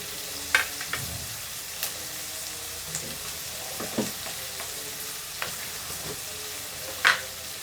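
Okra (ladyfinger) stir-fried in a pan, a steady close sizzle with intermittent scraping stirs and clanks of the utensil, no talking over it.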